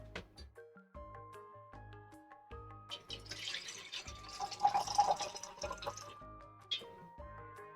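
A container of water opened carefully indoors, near a keyboard: quiet liquid sloshing and a few faint drips under soft, steady background music tones.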